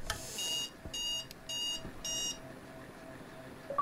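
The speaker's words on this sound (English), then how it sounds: "The timer went off." A kitchen timer alarm rings out in four short bursts of rapid, high electronic beeping, fairly even in rhythm, over a faint background of room noise.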